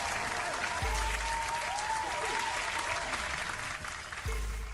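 Applause sound effect in the Dune Imperium digital board game, dense clapping at steady volume throughout with a couple of soft low thumps and faint electronic tones underneath.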